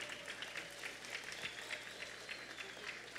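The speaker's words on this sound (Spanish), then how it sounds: "Fuerte ese aplauso." Steady audience applause at a community event handing out school supplies, dense rhythmic clapping throughout with faint crowd sounds underneath.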